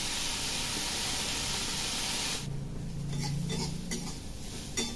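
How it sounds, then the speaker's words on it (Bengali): Bitter gourd frying alone in a little oil in a home kitchen: a steady broadband sizzle that drops off partway through, followed by a few light clinks and scrapes. "উচ্ছেটা ভেজে নিচ্ছি আলু দিইনি শুধু উচ্ছে ভাজছি"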